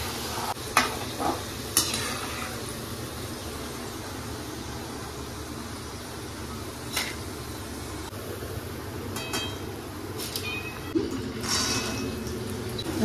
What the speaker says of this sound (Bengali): বাদামগুলো ভাজা হয়ে গেছে, দেখো আমি বাদামগুলো তুলে নিচ্ছি